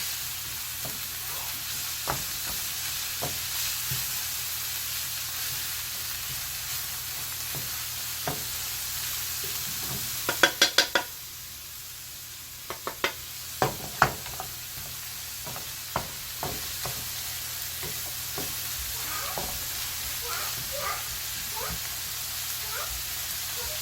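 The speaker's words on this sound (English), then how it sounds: "Stir fry this a little bit." Egg fried rice stir-fried with the onion, celery and pepper mix, a steady loud sizzle throughout with scattered sharp clacks of a utensil against the pan and a brief quieter pause midway.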